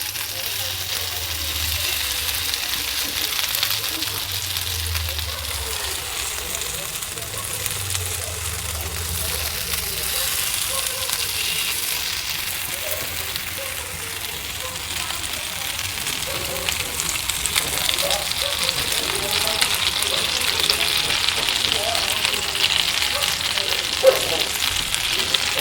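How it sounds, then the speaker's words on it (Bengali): Paneer pieces fry on a low flame and are turned in the pan, making a soft, continuous sizzle over a low background hum that grows slightly brighter toward the end. "আমি এইভাবে ঘুরি ঘুরি ভাজবো। এগুলোকে লো ফ্লেমে"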